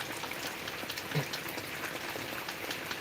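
Steady rain pours down through the open night air, a dense, even hiss with no voices, keeping a constant level throughout.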